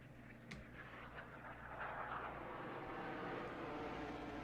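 Jet aircraft engine roaring with afterburner lit in War Thunder, a steady broad rumbling roar that swells slightly and holds loud and continuous throughout.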